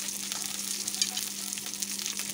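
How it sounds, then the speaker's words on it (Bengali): Pieces of rohu fish fry in hot oil over a village wood-fired stove, giving a steady bright sizzle with small crackles and pops throughout, close and alone, over a faint low hum. "এখানে আমি কয়েক পিস মাছ ভাজা করে নিচ্ছি।"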